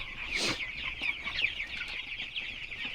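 Chickens cluck and chatter continuously nearby, with overlapping soft calls and a louder squawk early on, no talking.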